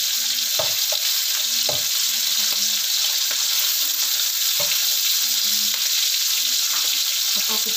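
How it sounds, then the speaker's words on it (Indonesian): Chicken frying in hot oil sends out a loud, constant sizzling hiss close by, with occasional dull knocks of a utensil against the pan and no talk. "Kita goreng ayamnya sampai harum"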